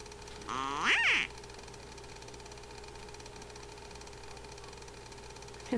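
A duck gives a short burst of loud nasal quacks near the start, then a quiet steady engine-like hum continues alone for several seconds.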